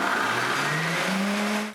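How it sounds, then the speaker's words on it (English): A blender whirs loudly, blitzing soaked almonds with fresh water, its motor whine holding steady and climbing slightly in pitch throughout. "add more water, put it in a blender and blitz it up,"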